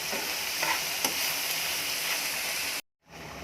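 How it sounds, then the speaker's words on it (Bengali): Small shrimp frying in a pan, a dense close sizzle with a few faint stirring scrapes, cut off by a brief dropout near the end before resuming more quietly. "এদিকে ছোটো চিংড়ি মাছ ভেজে নিচ্ছি।"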